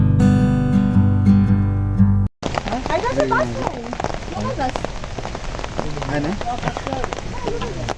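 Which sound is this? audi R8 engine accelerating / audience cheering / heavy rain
heavy rain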